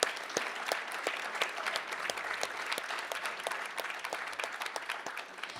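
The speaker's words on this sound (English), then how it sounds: "Let's give another round of applause for those DSA people." An audience at a community awards ceremony claps in a steady round of applause, dense overlapping claps with some sharper individual hits standing out, moderately loud and sustained with no talking.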